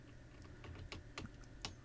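A few quick key presses on a PC computer keyboard for the Ctrl R shortcut, close and fairly quiet clicks in a short irregular burst, with no talking.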